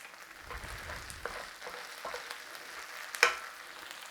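A meat pie filling mixture sizzles softly in oil in a pan, with scattered stirring scrapes and one sharper clatter near the end, fairly quiet throughout with no talk.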